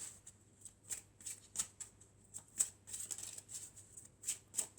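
Oracle cards shuffled by hand, a quick series of crisp riffling flutters and soft slaps in an irregular rhythm, close but quiet, with no voices.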